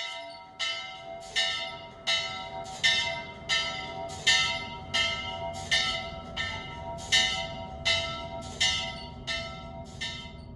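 Church bells ring for an Easter service at Cârța in Țara Făgărașului, Romania, struck in a steady rhythm of about fourteen clear strokes, each with a ringing decay, heard alone without voices.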